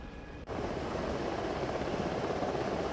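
A Chinook helicopter flies in a military video game, its rotor and engine roar cutting in abruptly and holding as a loud, steady drone for a few seconds, with no talk over it.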